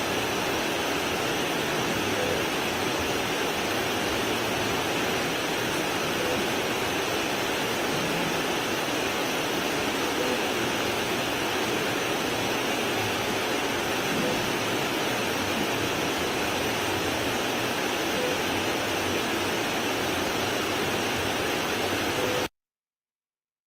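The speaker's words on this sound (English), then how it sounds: "white noise, so that they can't be heard." Steady broadband white noise hisses continuously in a courtroom, played to mask sidebar conversation between lawyers and the judge; loud and unchanging throughout, then cutting off abruptly at the end, with no speech audible.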